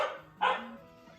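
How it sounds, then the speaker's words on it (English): A single dog bark sounds once, short and moderately loud a little way off, over soft background tones from a Mega Man 2 game. "Excuse the dog barking."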